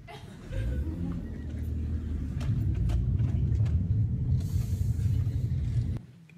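A car pulling away in first gear gives a low engine rumble that swells and holds for several seconds before cutting off abruptly, close and moderately loud, with faint voices underneath.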